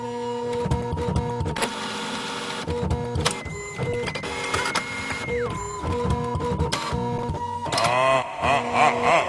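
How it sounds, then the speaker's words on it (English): A printer running in a backstage area at a music show whirs loudly and continuously, with mechanical clatter, steady tonal whines and a rising, falling motor pitch throughout. "if someone could do something about that printer in the backstage area"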